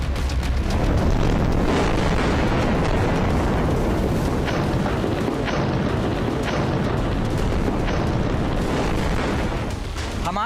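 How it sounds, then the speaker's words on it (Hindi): Explosions blow up Israeli tanks and armored vehicles in Jabalia, northern Gaza, as a loud, sustained rumbling roar. Sharp blasts and bursts are scattered throughout, with no voices. "इजरायली टैंकों और बख्तरबंद गाड़ियों को धमाके से उड़ाया है"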